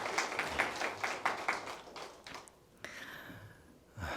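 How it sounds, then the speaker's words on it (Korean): A church congregation at a Sunday service claps together in a quick, steady rhythm. The clapping is fairly close and lasts a second or two, then quickly thins out into scattered taps and room murmur. "박수 치려면 같이 치시죠."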